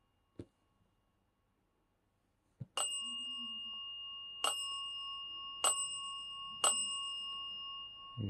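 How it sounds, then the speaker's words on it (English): Bell ringing near a haunted monkey doll: a small bright bicycle-type bell dings four times at uneven intervals, each ring sustained and fading, after a couple of soft knocks in near silence. "You're gonna make the bell ring like crazy now?"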